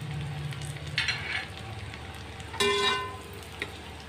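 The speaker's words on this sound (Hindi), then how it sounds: "प्याज ये हल्की ब्राउन हुई है, बस इसमें ये सारा गरम मसाला डाल दें।" Whole garam masala of cloves, cinnamon, black cardamom, cumin and bay leaves goes into lightly browned onions frying for egg biryani, with steady close sizzling that flares in a couple of louder bursts.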